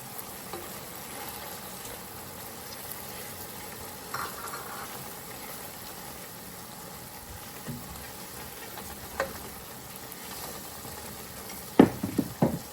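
Ground coriander, turmeric, chili and cumin hit a pan of mixed vegetables, a faint, steady sizzle running throughout with occasional soft clinks and scrapes, louder clatter near the end.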